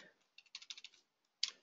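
Quick bursts of key clicks on a computer keyboard while code is being typed, a rapid cluster of close taps followed by a pause and one final louder keystroke.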